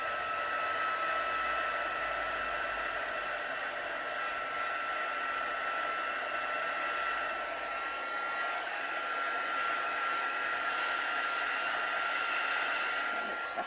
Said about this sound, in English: So I'm just going to dry this off.